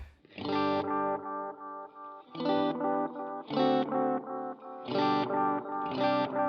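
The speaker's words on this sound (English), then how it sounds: "so it kind of has like an analog delay kind of sound" Distorted electric guitar chords strummed in a loose repeating pattern through a Thermae analog-style delay pedal, each trailing into soft, warm-sounding delay repeats, loud and continuous with no voices.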